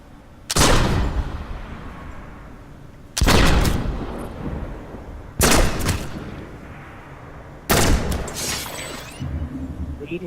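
Four heavy, booming gunshots aimed at targets in the video game PlanetSide 2, spaced a couple of seconds apart, each with a sharp crack and a long rumbling tail.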